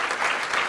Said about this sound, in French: Applaudissez-vous tous d'être venus aujourd'hui